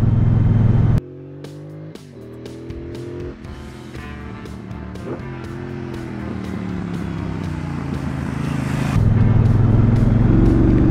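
A 2017 Triumph Bobber motorcycle engine pulls steadily while riding, a low loping throb that rises gradually through the gears with brief shift dips, loud and close with wind noise and no talk.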